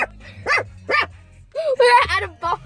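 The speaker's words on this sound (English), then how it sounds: "this is my first time video with a dog barking at someone" A dog barks at someone at a barn in a series of sharp, close barks, three spaced barks followed by a cluster of rapid ones.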